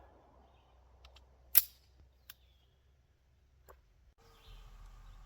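Handgun fired at a target 10 yards away on a shooting range: one sharp, loud crack followed by a few fainter, spaced reports over a quiet background, with no talk.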